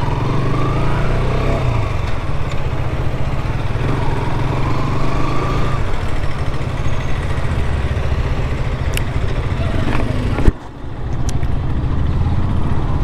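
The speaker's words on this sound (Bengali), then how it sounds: "সাউন্ডটা বাইকের লাইক আমার অতটা পছন্দ হয়নি সাউন্ডটা" A 2020 KTM RC 125 BS6 small sports motorcycle engine drones steadily and loudly throughout a ride, with a brief sharp dip near the end before the engine noise resumes.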